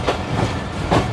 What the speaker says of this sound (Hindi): तो अब हबीबकोट रेलवे स्टेशन से हमारी ट्रेन जो है वो अपना ट्रैक चेंज करेगी